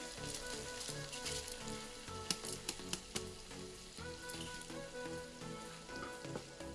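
Rice sizzling in a frying pan with onion and capsicum, a steady close crackle and hiss with a few sharper ticks of stirring, no talking.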